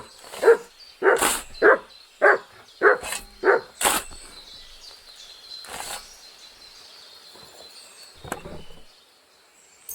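A dog barks in Kingdom Come Deliverance 2, a burst of about eight loud, close, evenly spaced barks followed by a couple of fainter ones over quiet background.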